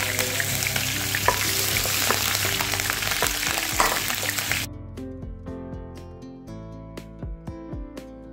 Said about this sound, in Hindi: और अब मैं बना लेती हूँ खिचड़ी, क्योंकि आज सबका फास्ट है।